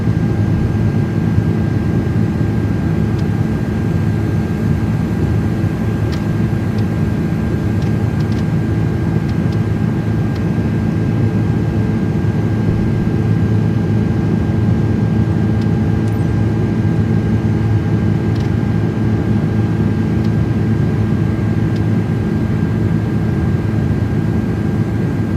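Aircraft engine in Flight Simulator 2024, a steady, even drone with a low rumble that holds unchanged throughout, no voices.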